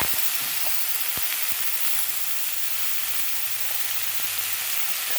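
Leafy greens for tambuli frying in a hot pan, a dense, even hiss of sizzling oil throughout with a few faint clicks, close and steady with no voices.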